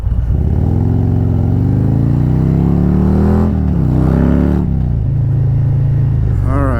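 A Harley motorcycle with a 131ci Stage 4 crate engine revs hard and close, rising through the gears with loud rumbling pulls, a drop-off, then a steady idle-like drone.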